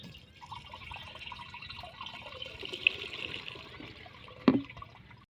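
Water running into a backpack sprayer tank in a village, a steady trickling splash with dripping, moderately close, ending in one sharp knock near the end.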